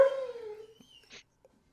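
A dog gives a long descending whimpering howl that fades out, followed by a few faint snuffles and small sounds in a quiet room.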